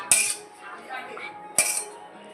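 A metal spoon clinks against a cooking pot twice as vegetarian curry is ladled out. Two sharp, close taps come about a second and a half apart, with soft scraping between them.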